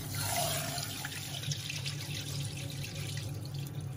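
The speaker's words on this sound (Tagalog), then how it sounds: "Maglagay tayo ng 3 cups ng glutinous rice. Then, hugasan lang natin itong mabuti ng 3 beses." Glutinous rice being washed in a sink under a running tap, with a steady near stream of water and splashing that continues throughout, no voices.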